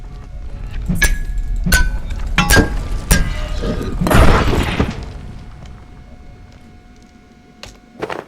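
A creature bursting apart in the survival game Abiotic Factor: several sharp, glassy cracks and thumps in quick succession, then a loud broad crash that trails off into quieter clinks, with one last hit at the end.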